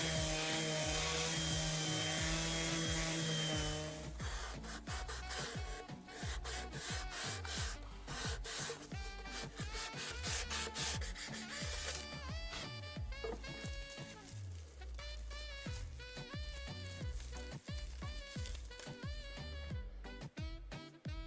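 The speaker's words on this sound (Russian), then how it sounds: "Очищаю и шлифую тыльную сторону." Sanding the back side of a wooden tray, with steady rhythmic rasping strokes that continue close and loud for about twenty seconds, alone without talk.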